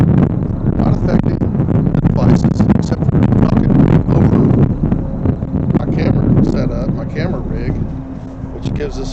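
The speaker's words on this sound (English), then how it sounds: "these wind gusts, and it's a little gusty out here." Strong gusting wind in a cemetery roars and buffets the microphone steadily, with a low rumbling texture throughout and a slight easing near the end.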